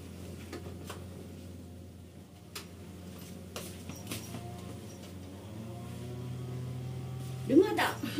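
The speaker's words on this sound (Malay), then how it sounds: "Orang mesin rumput." A grass-cutting machine running somewhere nearby gives a faint, steady low drone with a few light knocks on top, and grows slightly louder toward the end.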